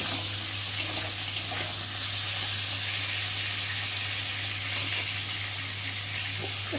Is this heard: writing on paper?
no